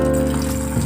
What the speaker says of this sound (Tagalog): Palitan ko lang siya ng tubig.